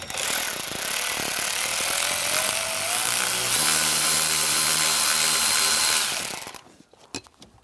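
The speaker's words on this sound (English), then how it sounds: "I'm gonna use a 7mm socket. Loosen that up." A power tool whirs loudly and steadily as a 7mm socket loosens a screw on the steering column of a 1999-2006 Chevrolet Silverado 1500, then winds down and stops, followed by a few faint clicks.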